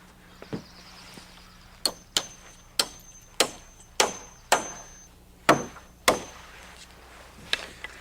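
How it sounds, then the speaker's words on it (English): A hammer drives nails into a permanent sway brace on a roof ridge: about a dozen sharp, fairly close strikes in a steady, unhurried rhythm over a quiet background. "we nail in a permanent sway brace"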